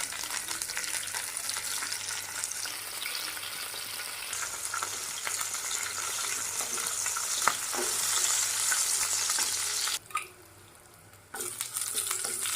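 Bay leaves, slit green chillies and curry leaves fry in hot oil, an intense close sizzle with scattered stirring taps, dipping sharply for about a second before the crackle resumes.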